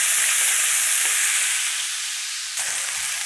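Pork chops sear in a hot pan with a loud, steady, close sizzle that eases slightly as it continues, and no voices are heard.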